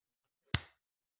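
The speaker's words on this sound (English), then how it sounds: "I'll snap my fingers, and that'll be the signal for me" A single sharp finger snap, close and crisp in an otherwise quiet room, dying away in a fraction of a second.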